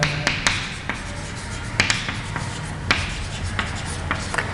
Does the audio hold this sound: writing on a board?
yes